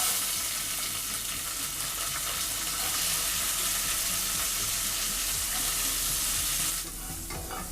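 Sun-dried turkey berries fry in sesame oil for sundakkai vathal kuzhambu, making a loud, steady hiss of sizzling oil close by that eases slightly near the end.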